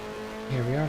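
A 1974-season race car in F1 Challenge, running without its front wing, gives a steady engine drone that rises into a higher whine, with tire squeal as it takes a corner.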